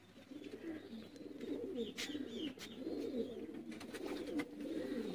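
Sialkoti pigeons coo in soft, repeated low throaty calls at close range, with faint chirps and background rustle throughout and no talking.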